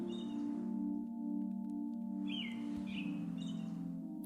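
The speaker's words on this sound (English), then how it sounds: "and I can hear birdsong." Faint bird calls and chirps in dense woodland sound in short phrases over a steady low hum, sparse and somewhat distant.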